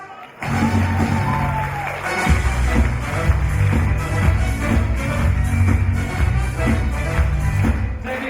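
Wedding guests at a celebration in Arkalyk clap and cheer in a loud, continuous burst of applause with scattered shouts, which starts abruptly and keeps a steady intensity.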